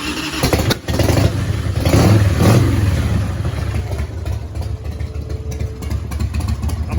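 A Harley-Davidson FXR with Screaming Eagle pipes runs close and loud, its deep, lumpy engine rumble and exhaust throbbing steadily throughout.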